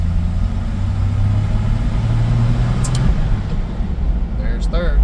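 A 1964 Ford F100 pickup with a three-speed column shift drives along, its engine droning loudly and steadily up close with road rumble, while a person talks over it.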